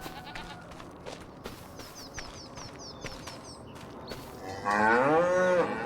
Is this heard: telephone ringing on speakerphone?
no